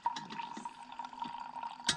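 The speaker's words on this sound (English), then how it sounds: "Oh, that first sound when I pour the water in." Water is poured in as a faint, continuous trickle with light bubbling and a few soft splashes across two seconds, with no voices.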